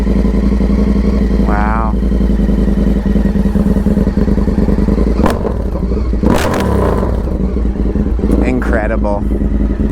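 Indian FTR 1200 V-twin motorcycle fitted with a full Toce exhaust and tune, revving hard and loud up close, deep throbbing bursts over a steady idle rumble, with excited talk in between.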